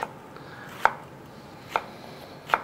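A knife cuts half an onion into strips on a board in a quiet kitchen, giving three crisp, evenly spaced chops about a second apart with no voices.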